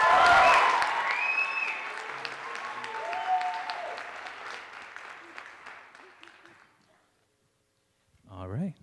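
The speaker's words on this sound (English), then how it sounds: "Please give them one more round of applause." An audience applauds at a junior high school Christmas concert. The clapping is dense and loud at first, then thins and fades out after about seven seconds, followed by a brief voice at the end.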